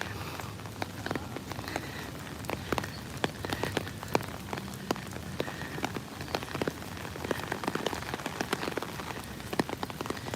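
Steady rain patters on surfaces on a wet day outdoors near the war memorials, with dense irregular drips and splashes tapping close by over a constant hiss, no voices.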